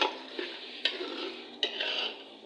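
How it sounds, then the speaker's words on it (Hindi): Green chillies cut into two pieces each fry with black chickpeas in a pan, a close, bright continuous sizzle broken by a few sharp spoon clicks against the pot. "ये मैं साथ में डाल रही हूँ क्योंकि ये साथ में फ्राई हो जाएंगी"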